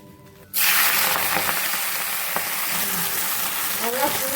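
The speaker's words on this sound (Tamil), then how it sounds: "இப்போ இலையை போட்டு வறுத்துடலாம்" Vallarai leaves dropped into hot oil in a pan, bursting into a loud, steady sizzle and crackle that holds close and continuous, with faint stirring scrapes.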